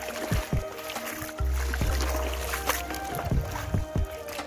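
Boat on a river in Dhemaji, Assam, heard as a steady low drone with intermittent knocks and water splashes close by.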